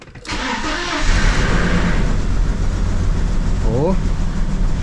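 An Audi A6 engine, which had been sitting without injectors, cranks and catches, then settles into a loud steady running rumble, with a voice briefly heard over it.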